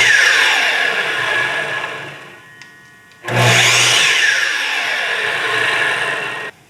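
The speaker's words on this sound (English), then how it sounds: "This is my first time turning this on, and let me tell you what a difference. The Makita has a soft start" A Makita LS1219L 12-inch double-bevel sliding miter saw runs with a high whine, spins down, then restarts with its soft start, its motor rising smoothly to a loud steady whir before cutting off.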